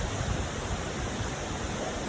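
Stream along the hiking trail to Dark Hollow Falls, a continuous steady rush of flowing water, fairly close and even in level.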